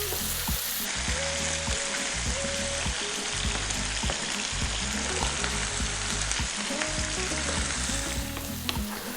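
Fresh chilies and onions fry hard in a hot pan with a dense, loud, continuous sizzle. They are kept moving by steady stirring throughout, and the scraping sounds are clear and close.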